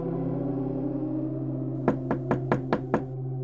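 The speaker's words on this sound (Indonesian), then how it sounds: "Bu Pawet mendengar ketukan dari pintu rumahnya." Six sharp knocks on a house door land in a quick, even run against a steady low hum, following a long stretch of background drone, an effect for an illustrated horror story.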